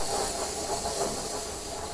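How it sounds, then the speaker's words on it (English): Steam locomotive venting a broad, steady hiss of escaping steam that fills the whole stretch at close range, with no talk over it. "James was enveloped in a cloud of steam."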